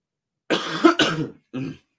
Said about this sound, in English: Sorry, got a little cough.